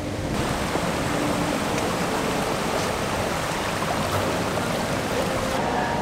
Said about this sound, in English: that's a waterfall inside here, or a fountain